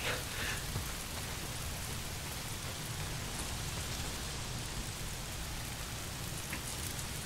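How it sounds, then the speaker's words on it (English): Steady rain in the video game Days Gone, a constant soft hiss of drops falling on surfaces, quiet and even from start to finish with no talk. "If it's not the freaks, it's the goddamn rain"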